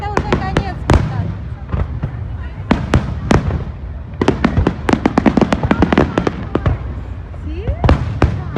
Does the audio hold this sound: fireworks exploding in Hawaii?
yes